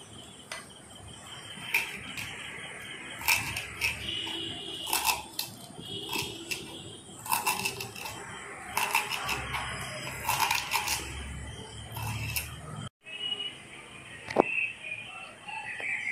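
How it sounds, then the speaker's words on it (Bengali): Fresh coriander leaves are chopped with a knife on a cutting board in a quick series of crisp, close cuts, coming in short bursts with brief pauses between them and no talking. "এবার আমি ধনেপাতা কেটে নেব।"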